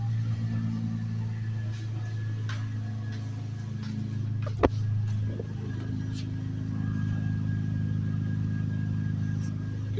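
A Lexus ES300 with its muffler deleted idles after a warm start, a deep steady engine rumble close by with a brief clunk partway through and slight swells in the drone.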